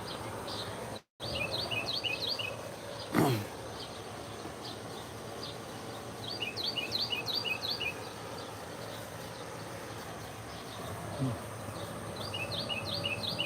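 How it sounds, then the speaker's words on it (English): Small bird chirps at sunrise sound as faint, repeated high tweets in short clusters over a steady hum of background noise, somewhat distant, with a couple of brief louder knocks. "you hear that bird that's right there?"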